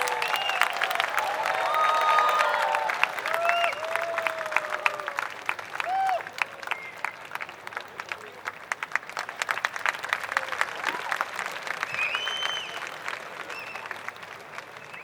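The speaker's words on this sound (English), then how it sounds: "A loud round of applause." Loud audience applause at a film promotion event in India, a dense wall of clapping that swells strongest early on and then holds steady with scattered cheers and voices in the crowd for about fifteen seconds.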